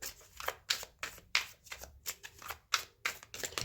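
Tarot cards being shuffled by hand, a rapid series of crisp, riffling flutters and soft slaps in a quiet room, close up and alone.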